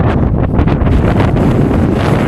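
Strong, blustery wind on the wet, misty summit of Mount Brandon, County Kerry, buffeting the microphone in loud, rumbling gusts, constant throughout with no voices.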